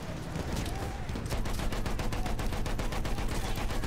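Rapid sustained gunfire from a World War I battle in Battlefield 1, a dense fusillade of repeated shots rattling steadily and loudly for several seconds.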